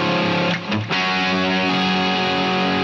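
An electric guitar plays through the heavy distortion (HDS) setting of a Boss ME-8 multi-effects unit. It gives a thick, saturated sustained chord, then a brief dip before the chord rings on loud and buzzing with no talk.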